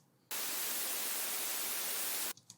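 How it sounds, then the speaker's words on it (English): A burst of synthesized white noise from a 3X Oscillator synth, layered in a melodic dubstep drop, sounds as a loud, flat broadband hiss for about two seconds that begins and stops abruptly. "I layered it with white noise from 3X Oscillator."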